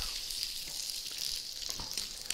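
A fatty strip steak sears in a hot pan, giving a steady, bright, hissing sizzle with small crackles and pops throughout, heard close and alone.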